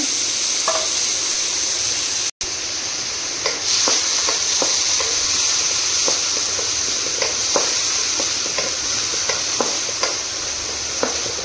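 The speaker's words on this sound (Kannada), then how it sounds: "ಇದನ್ನು ಈ ತುಪ್ಪದಲ್ಲಿ ಫ್ರೈ ಮಾಡಿಕೊಂಡ್ರೆ ಆಯಿತು" Chopped onions frying in ghee give a loud, steady sizzle and hiss, with repeated scraping stirs and clicks of a spatula against the pan, close and without speech.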